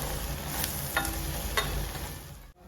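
Garlic and green chilli paste with cumin fries steadily in hot oil, a continuous close sizzle broken by a few brief scraping stirs.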